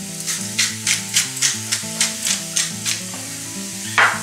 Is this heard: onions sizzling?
yes